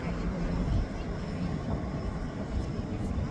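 A heavily loaded airliner rolls down runway 23L at Manchester Airport on its takeoff run, producing a steady, broad jet roar at moderate distance with no voices.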